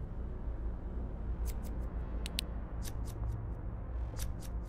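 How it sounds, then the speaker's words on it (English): Scissors snipping in the horror video game Noxia Somnia: several quick, crisp metallic snips in scattered pairs, faint over a low ambient hum. "Do you hear the scissors?"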